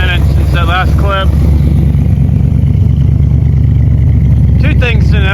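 A steady, low engine idle rumbles continuously at close range from a carbureted 1984 Corvette, with a voice speaking briefly over it at the start and end.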